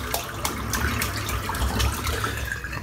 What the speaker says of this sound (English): Just rinsing the brush out, which doesn't take very long because it's such a short lofty brush.